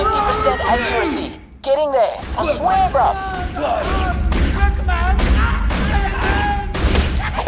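Rapid bursts of turret gunfire in the video game Borderlands: The Pre-Sequel crackle repeatedly as the turrets fire at Scavs, alongside mechanical clanks and effects, with a voice talking over the action.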